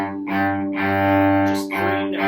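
Cello on the Suzuki piece Allegretto, playing a repeating three-note rhythm of two short bowed notes and a long one, sustained and close with no talking.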